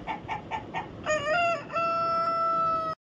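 A cartoon village chicken gives four quick clucks, then a rooster lets out a long, loud crow that holds steady before stopping abruptly, heard alone without talk.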